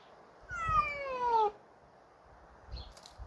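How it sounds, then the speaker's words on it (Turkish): A single drawn-out cat meow, close and clear, falling in pitch over about a second, followed by quiet with faint rustling. "kediydi"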